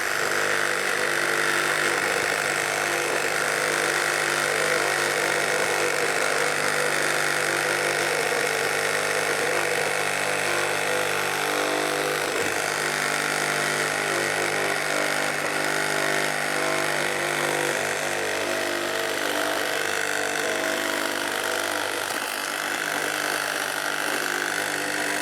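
A Harbor Freight reciprocating saw with strong orbital action cuts steadily, a loud continuous buzzing motor whine with a dense rasping blade stroke held for the whole stretch, no talking.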